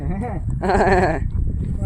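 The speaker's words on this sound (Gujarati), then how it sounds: "બકરીને એમ ક્યાં બોલે છે." A goat on a farm bleats once in a loud, wavering cry close by, set against background voices and outdoor noise.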